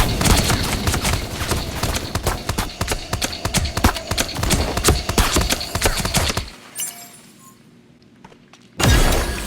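Gunfire in a mobile shooter game played on a Motorola Moto G Stylus 2023 5G: rapid, dense crackling bursts of shots for about six seconds, loud and close, then a quieter lull before a sharp return of sound.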